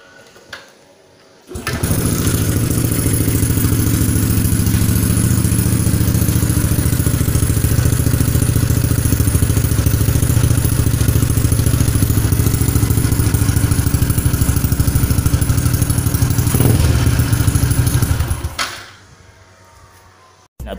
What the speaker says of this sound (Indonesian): exhaust motor akan bunyi letup-letup